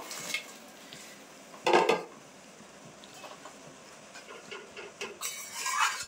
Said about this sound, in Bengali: এবার ভেজে রাখা মাছ দিয়ে দেবো